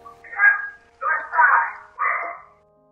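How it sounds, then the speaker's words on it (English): A dog gives three short, close barks in quick succession, with a steady low hum behind them, in a paranormal EVP recording. "she heard Kathy's voice admonishing the dog"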